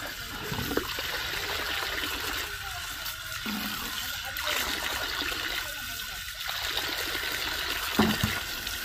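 Water runs steadily while freshly harvested, soil-covered yams are washed, a continuous splashing flow with a few brief knocks and handling sounds throughout.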